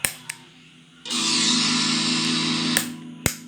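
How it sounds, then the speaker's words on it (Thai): An electric guitar through a distortion pedal with true bypass switching roars out a chord that sustains for nearly two seconds, framed by short percussive clicks and thumps. "ผมจะใช้เสียงแตกนะครับ"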